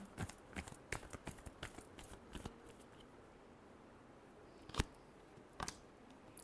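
Tarot cards are shuffled by hand in quick, crisp riffling snaps, a dense run of taps early on, then a pause and a few isolated flicks, close and quiet with no talking.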